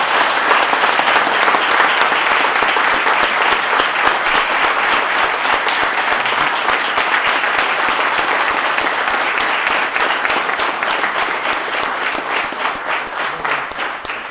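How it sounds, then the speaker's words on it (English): Sustained applause from residents and officials at a Jamestown city council voting session, dense clapping held steady for about fourteen seconds before thinning slightly near the end. "we could give him a round of applause and say thank you"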